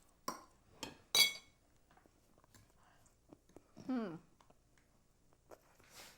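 Cutlery clinking on a plate while cutting a piece of spicy chicken, a few sharp clinks and scrapes spaced out, with people talking between them.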